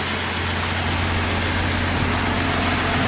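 A 2016 Ford F-150 with a 3.5 V6 idles steadily and quietly, a smooth low hum with an even, unbroken drone close by and no speech.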